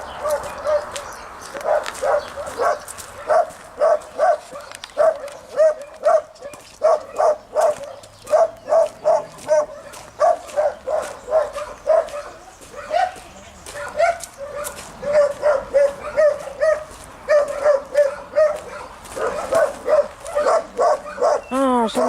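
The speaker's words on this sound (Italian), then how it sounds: "No, sono i cani." Dogs bark repeatedly in quick, rhythmic bursts, fairly close and loud, with a few yips mixed in and Italian voices talking at times underneath, in Quartu Sant'Elena, Sardinia.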